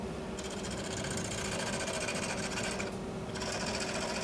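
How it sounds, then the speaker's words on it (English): Continuous whirring of a spinning wood lathe with a rasping, scraping cut as a tool works a maple burl, steady and close, briefly easing near the end. "I wanted to make this on the lathe, so I'm making it on the lathe"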